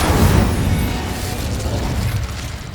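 Casting the Incendio fire spell in Hogwarts Legacy brings a loud whooshing burst of flame that opens strongly, then settles into a sustained roaring rumble lasting several seconds.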